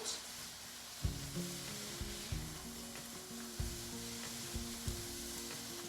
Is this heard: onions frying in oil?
yes